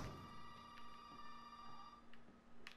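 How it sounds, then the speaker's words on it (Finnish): Telephone ringing in the Resident Evil 7 video game, a faint, steady electronic ring tone holding on one pitch, heard alone and quietly. "Puhelin soi."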